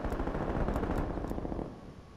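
MAC-10 submachine gun fire in Call of Duty Black Ops Cold War, a dense rapid rattle of shots that fades slightly toward the end of a short burst.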